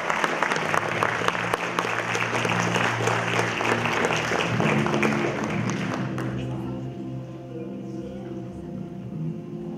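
Audience applause for award winners at the 2018 Cultural Diversity Awards ceremony, dense steady clapping that fades after about six seconds into a quieter hall with a little talk underneath.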